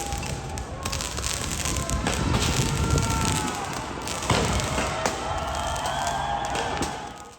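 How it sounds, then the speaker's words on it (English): Police fire rubber bullets at a pink protest barricade on a Los Angeles street: sharp pops and thuds go off steadily, all buried in a dense, continuous roar of crowd and street noise. "There was a pretty consistent fire of rubber bullets as the police were trying to break up this pink barricade"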